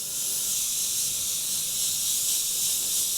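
An airbrush sprays paint for cloud work, a steady close hiss of air and atomized paint, uninterrupted for a few seconds.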